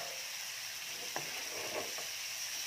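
Chili is added to a sizzling vegetarian pumpkin stir-fry in a hot pan, giving a continuous close sizzle with a few sharp stirring clicks and scrapes.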